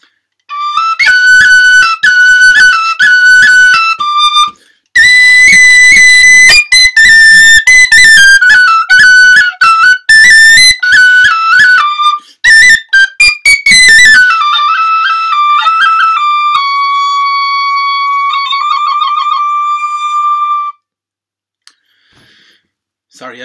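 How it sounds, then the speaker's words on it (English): The tune Dodo's Delight played on a tin whistle in D, loud and close, with bright fast ornamented notes in lively phrases, brief pauses, and a final long held passage before it stops. "Dodo's Delight on the tin whistle in D"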